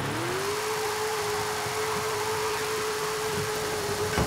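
A stretched limousine in Forza Horizon 5 revs hard and holds high revs, a steady loud engine drone with a rising then sustained tone over road and wind noise.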